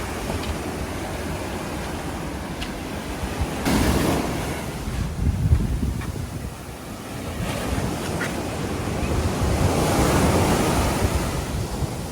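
Strong ocean surf breaks and washes in at Dream Beach on Nusa Lembongan, Bali, a steady loud roar that swells in repeated surges, with wind buffeting the microphone.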